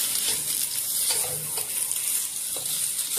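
Veggie noodles stirred and tossed in a hot pan, a steady close sizzle with a few soft scraping strokes of the spoon, no voices.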